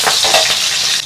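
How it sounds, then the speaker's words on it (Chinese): Scallion, ginger, garlic and dried chili stir-fried in a hot wok give a loud, continuous sizzle with a few stirring scrapes, close up and with no talking. "葱姜蒜干辣椒，先爆香。"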